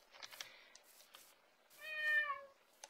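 A cat meowing in the video game Minecraft: several short, soft mews followed by one longer, clear meow, fairly faint against a quiet background.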